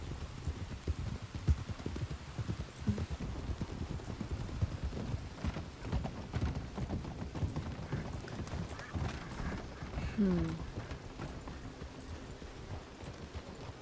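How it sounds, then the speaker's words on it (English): Horses in the RedM Red Dead roleplay video game, steady clip-clop of hooves throughout with a short neigh partway through, over a continuous outdoor background, with faint talk. "There's certainly horses scattered about now"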